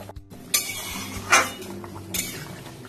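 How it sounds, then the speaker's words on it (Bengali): A metal lid lifts off a pot of simmering katla fish curry on the stove, giving a few sharp metallic clinks and a scraping clatter at close range, with no voices. "ঢাকাটা খুলছি।"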